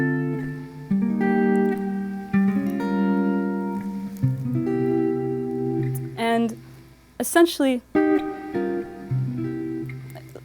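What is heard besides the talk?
guitar playing signature chord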